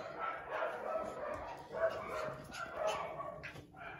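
Six-week-old puppies bark and yip repeatedly nearby, high-pitched and excited, with soft whimpering between the barks.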